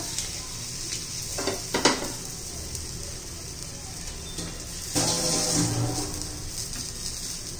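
Cheese and potato snack frying in oil in a pan gives a steady close sizzle, with a couple of brief utensil clinks and a louder surge of crackling partway through.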